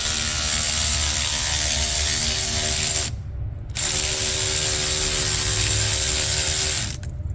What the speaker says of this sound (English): Electric Amazon ratchet,